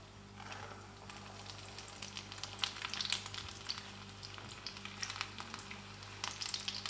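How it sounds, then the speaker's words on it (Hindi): Pizza cutlets shallow-frying in a pan over medium-low flame give off a steady, close sizzle with scattered crackling pops throughout, and no voices. "इनको हम मीडियम टू लो फ्लेम पर फ्राई करेंगे ताकि ये ऊपर से अच्छे से फ्राई हो जाए और अंदर से भी अच्छे से पक जाए।"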